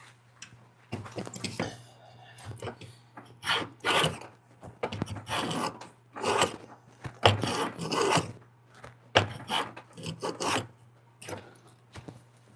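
A hand plane shaves wood on a bench in long rasping strokes, repeated rhythmically about a dozen times with short pauses, close and fairly loud, with a steady low hum underneath.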